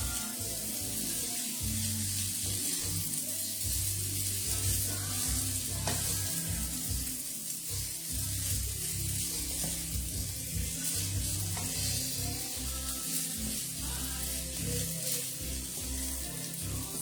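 A stir-fry sizzles steadily in a pot while a spatula stirs it from the bottom, a dense, continuous frying hiss with faint scraping running throughout.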